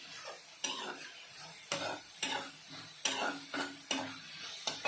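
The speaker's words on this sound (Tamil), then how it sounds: "வெங்காயம் சேர்த்து நன்றாக வதக்கவும்" Onions sautéing in a pan for a grandma-style chana masala, with a steady sizzle and repeated loud scraping stirs landing roughly every half second to second, close up and with no talking.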